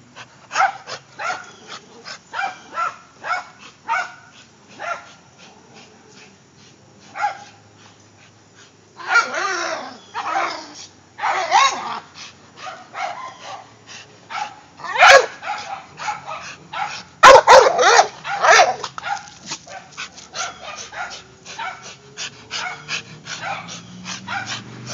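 A dog barks, yips and whimpers in bursts outdoors, excited and close, with some panting breaths between the louder flurries.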